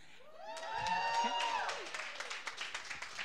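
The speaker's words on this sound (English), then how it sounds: "keep the claps rolling" Audience applause at a Caribbean-Canadian chamber of commerce event: a steady patter of clapping that builds, with cheering and talk mixed in near the start.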